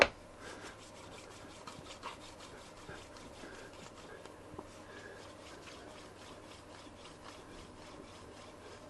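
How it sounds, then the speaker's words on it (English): A hand plane's sole being flattened against a sheet of MDF coated with polishing compound, giving a steady, close rhythmic scraping and rubbing with repeated back-and-forth strokes and no voices. "with flattening the sole of the plane. Piece of MDF with some polishing compound on it."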